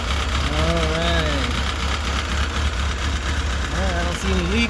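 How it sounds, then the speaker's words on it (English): A 2003 Kawasaki 636 motorcycle engine idles steadily after a fuel injector job, a loud continuous buzzing rumble close by that runs throughout, with someone talking over it. "I'm gonna let the engine run for a bit so get a good flow."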